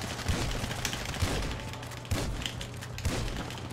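Shotgun blasts in the video game GTA 5, four heavy booming shots spaced roughly a second apart over a constant low rumble of game noise, with no talk.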